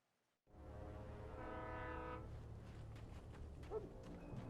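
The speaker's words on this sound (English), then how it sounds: "Is that a real train or is that a ghost train?" A loud, sustained train horn blares in Alan Wake, its deep droning chord starting abruptly after a moment of quiet and holding steady alongside a rumbling train for several seconds.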